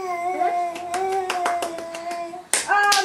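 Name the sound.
child clapping hands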